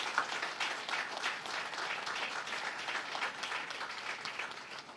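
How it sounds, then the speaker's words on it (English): Audience applause at a government ceremony in Bartica, a dense, steady wash of many hands clapping that fills the whole stretch at an even level with no talk. "So I want us to give them a huge round of applause."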